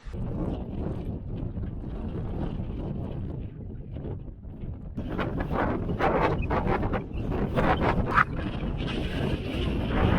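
Strong, cold wind on a mountain trail on New Hampshire's Pemi Loop buffets the microphone in a continuous low roar, growing gustier and harsher partway through, with no voices.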